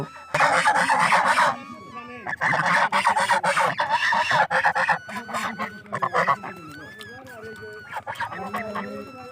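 Chickens and a rooster call loudly and repeatedly on a river island in the Padma, with honking, crowing calls crowded close together and fading to scattered cries.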